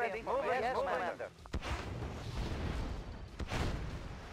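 Red Alert 2 Soviet campaign combat booms with explosions and gunfire on a beach, with sharp blasts and rumbling fire under someone talking.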